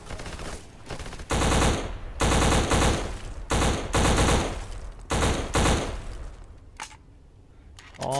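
Rapid automatic gunfire from the Xbox shooter game Black, loud sustained bursts of machine-gun fire separated by brief gaps, ending in quieter single shots.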